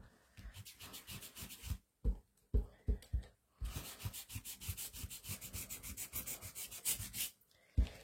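Foam sponge rubbed back and forth over an ink-stamped, painted art journal page, a steady run of close, scratchy rubbing strokes with a few brief pauses and no talk.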